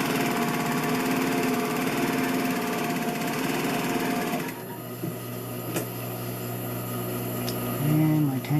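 A high-speed oil-fed straight stitch sewing machine runs in a steady rapid whir for several seconds, then drops to a quieter idling hum with a few soft clicks, close and clear.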